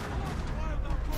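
Dense, continuous rattle of gunfire and booming blasts in Max Payne 3, a parking lot shootout, steady and loud from start to finish.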